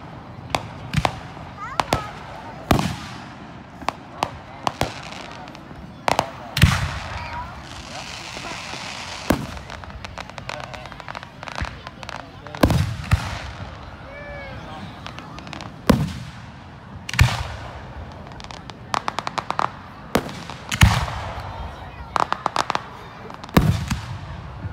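Independence Day fireworks set off in a park crack and boom in frequent sharp bursts, some in rapid crackling volleys, at varying distances, while people talk in between.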